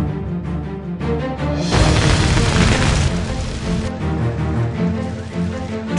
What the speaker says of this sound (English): Sudden overheating caused the gas pipe to explode and fire quickly spread to the upper floors.